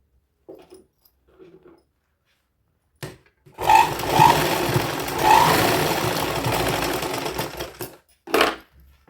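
A sewing machine stitches a baby girl's midi dress in a sustained run of about five seconds, preceded by a few soft handling sounds and ending with a short extra burst.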